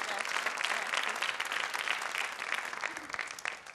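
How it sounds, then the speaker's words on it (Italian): Brief, dense audience applause at a Rome award ceremony, steady and fairly close, tapering slightly toward the end. "un applauso che meritate doppiamente"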